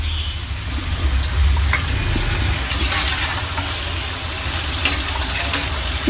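Kara boondi batter drops frying in hot oil, with a steady loud sizzle and bubbling throughout and occasional light clinks of a stirring utensil.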